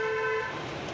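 A car horn honks in a long steady blast over the rumble of a car being driven through a busy town street in Chatra, Hazaribagh, then cuts off, leaving road noise.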